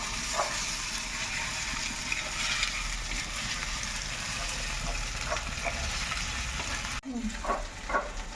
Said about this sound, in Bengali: এবার আমি আদা রসুন বাটাটা এর মধ্যে দিয়ে দেবো আর টমেটোটাও দিয়ে দেবো দিয়ে একটু মশলাটাকে দু মিনিট মতন কষিয়ে নেবো